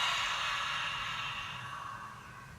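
A deep, slow exhale of breath through an open mouth during a yoga session for period pain, one long close breath that holds steady and then gradually fades.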